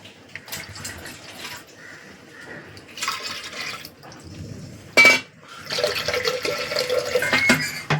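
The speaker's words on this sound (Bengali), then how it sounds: "জল দিয়ে দিচ্ছি। জলটা এমনভাবে দেবো যাতে ডালটা জলের নিচে থাকে।" Water pours into a pot of lentils in bursts, a close splashing, running stream that starts and stops several times with one sharp louder splash in the middle.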